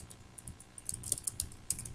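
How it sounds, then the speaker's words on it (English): Keys clatter on a computer keyboard as a short message is typed, quick irregular taps close by with a few louder strokes, no voices. "Type your little message."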